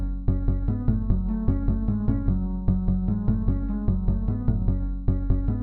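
Fibonacci-sequence notes taken at moduli 2, 4 and 6 sound together as a steady stream of pulsing synthetic tones. Pitches step among several harmonizing layers in a repeating rhythm, played cleanly without speech.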